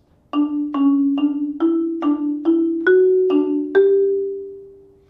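Nine clear mallet notes struck in a steady rhythm, each ringing with bright overtones, the last one left to sustain and fade.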